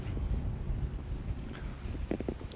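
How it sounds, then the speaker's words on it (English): Outdoor wind buffets a microphone in a steady low rumble with gusty surges, fairly close and continuous. "It's a little windy, but not too bad."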